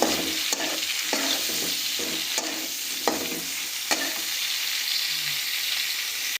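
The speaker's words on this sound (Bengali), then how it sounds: "আলুটা দিয়ে একটু ভালো করে ভেজে নেব" Potatoes sizzle in oil in a pan as they fry for a fish curry, a steady close hiss broken by several sharp scraping stirs of a spoon against the pan, with no voices.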